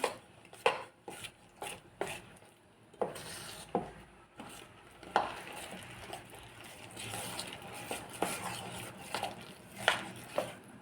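Maida flour being mixed into a batter in a bowl for a dosa-style dish, with irregular knocks, taps and soft scraping strokes, close and moderately quiet.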